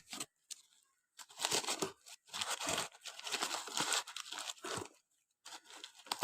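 Packing material of a parcel holding an antique collection is torn open and unwrapped, giving bursts of crinkly tearing and crunching at close range, broken by short pauses, with no talk.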